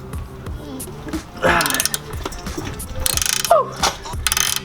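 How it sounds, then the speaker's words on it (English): Ratchet clicking steadily as it loosens an 18mm nut under a BMW E46, with short bursts of rapid pawl ticks separated by brief pauses, close and clear, plus some metallic clanks. "We're going to start by removing this 18mm nut."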